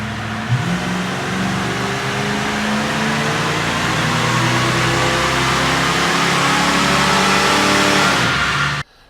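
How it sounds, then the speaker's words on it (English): A stock 1993 Ford Mustang, fitted with a new distributor cap and rotor, runs on a dyno. The engine revs loud and sustained, its pitch climbing steadily through a full pull before cutting off abruptly near the end. "we'll fire it up and we'll run it again with the new cap and rotor"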